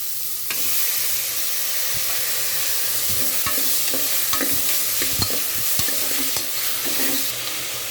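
Onions and tomatoes sautéing in a pan for a vegetable kurma, with a steady sizzle and repeated scraping stirs and spoon clinks over about eight seconds, close and fairly loud, no talking.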